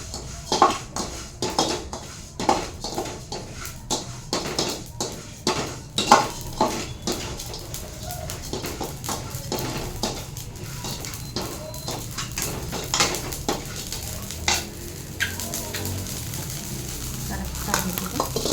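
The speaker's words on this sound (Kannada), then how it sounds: "ಒಂದು ಸ್ವಲ್ಪ ಚಟ್ಪಟಿ ಸಿಡಿಬೇಕು ಜೀರಿಗೆ" Cumin seeds splutter and crackle in hot oil in a home kitchen pan, with steady sizzling under repeated sharp stirring and scraping knocks of a utensil against the pan, busiest in the first half, then a softer ongoing fry.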